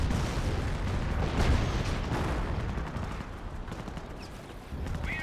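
Dense, continuous rumble of an artillery barrage in Company of Heroes, a World War II strategy game, with overlapping booms and crackling impacts rolling steadily for several seconds and easing slightly toward the end.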